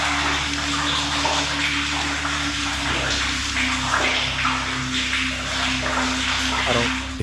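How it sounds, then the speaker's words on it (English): Water echoes through an underground cave, a continuous rushing wash with a low steady hum beneath, loud and enveloping throughout. "I just hear water."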